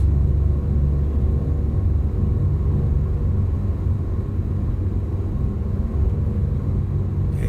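Twin piston engines of a Beechcraft Baron B58 at takeoff power in the X-Plane 11 flight simulator, a loud steady droning rumble that holds unbroken throughout, with no voices.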